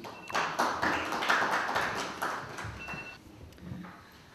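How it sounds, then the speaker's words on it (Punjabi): Audience applause at a book launch event for a book on the 1984 Sikh genocide, a dense burst of many hands clapping in a room that swells and then fades away over a few seconds. "ਨਵਜੋਤ ਢਿੱਲੋਂ ਜੀ ਲਈ ਜ਼ੋਰਦਾਰ ਤਾੜੀਆਂ ਪਲੀਜ਼"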